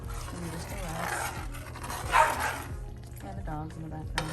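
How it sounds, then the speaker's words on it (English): Dogs scuffle and bark in the background of a home kitchen, with yips, pants and whimpers mixed under a steady low hum and nearby activity. "And the dogs in the background fighting."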